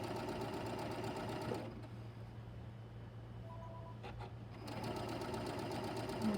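A sewing machine runs steadily while stitching a quilt border seam, its motor humming in a fast even rhythm, then briefly pauses midway before resuming at the same pace; faint and close, with no voices.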